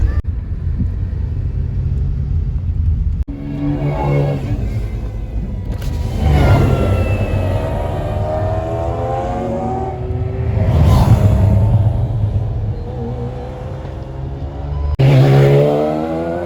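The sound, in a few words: McLaren F1 supercars driving on open road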